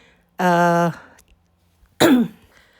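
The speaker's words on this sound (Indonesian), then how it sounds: "saya batuk" Two close, abrupt vocal bursts separated by a pause: a short voiced throat sound followed by a harsher cough.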